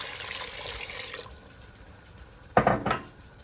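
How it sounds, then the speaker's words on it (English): Water poured into a pot of turkey goulash, a soft splashing pour first, then a couple of sharp clinks of a utensil or container against the metal pot. "We're going to add 3 cups of water."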